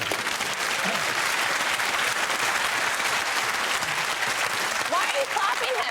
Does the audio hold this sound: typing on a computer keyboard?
no